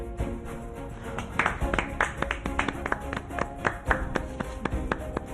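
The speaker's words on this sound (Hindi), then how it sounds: "भाई मेरे लिए तालियां तो बजाएं।" Family members clapping to encourage a girl before her song, a run of sharp, fairly regular hand claps, close and moderately loud, over a steady tonal background.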